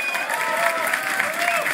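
A crowd at a fighting game tournament claps and cheers in a steady roar, with a voice talking over it.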